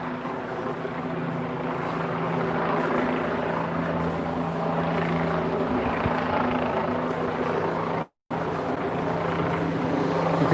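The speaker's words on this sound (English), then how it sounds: "either media or police helicopter." A media or police helicopter flies overhead on a city street, making a steady rotor drone with a low hum that holds throughout, and the noise of the street lies beneath it.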